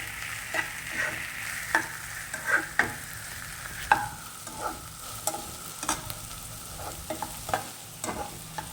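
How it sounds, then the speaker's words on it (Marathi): Finely chopped capsicum sautéed in a pan for masala Maggi, a constant sizzle with rhythmic spatula scrapes and taps close by, about one every second, no speech. "छान 2 ते 3 मिनिटं असं परतून घ्यायचं"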